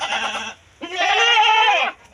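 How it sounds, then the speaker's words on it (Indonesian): A female Jawa Randu goat for sale bleats twice nearby, a short call followed by a longer, loud wavering bleat, with no talking over it. "dijual kambing"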